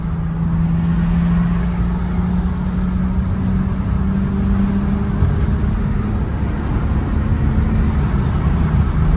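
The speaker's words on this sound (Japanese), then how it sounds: "いい音するんだよね、アイブンの車はね" A tuned Nissan Skyline engine drones steadily from inside the cabin, its low hum rising slightly as the car accelerates.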